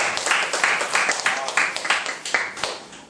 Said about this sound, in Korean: 자, 대학교 입학을 축하하는 박수 한번